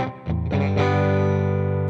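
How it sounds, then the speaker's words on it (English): Electric guitar played through a Sonicake Matribox with a ring modulation effect blended in, a sustained chord ringing with a metallic, warbling buzz and a fuzzy distorted layer underneath, played alone and steady after a quick attack. "with some weird sort of distortion fuzziness underneath it."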